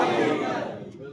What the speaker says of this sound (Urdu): اگر بات اچھی تھی تو کم سے کم نعرے سے استقبال کر لیتے